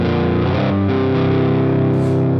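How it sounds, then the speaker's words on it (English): Crunchy, swampy rock guitar riff in a dropped tuning, played through a vintage amp set to medium distortion; dense sustained chords ring steadily and loudly for the whole stretch with no talking. "I'm using any type of vintage amp on medium distortion."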